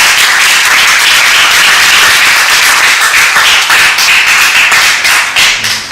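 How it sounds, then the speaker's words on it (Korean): Loud, sustained applause from a crowd at a lecture, dense clapping throughout that tapers slightly at the end. "뜨거운 박수 부탁드리겠습니다"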